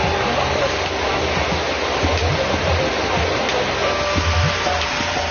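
Waterfall at Amboli during the monsoon, a steady broadband roar that stays even and continuous from start to end with no breaks, loud and close.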